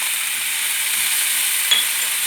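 Onions with chopped basil frying in a pan, a steady, loud, even sizzle that holds throughout, with a small stirring knock near the end.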